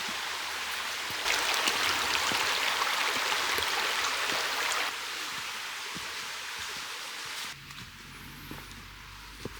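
A shallow river flows over rocks at a hiking trail crossing in New England in the fall, a steady close rushing hiss that fades lower near the end.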